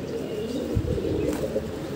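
Low, rolling coos from a group of freshly released pigeons run steadily nearby and overlap one another, with no one talking.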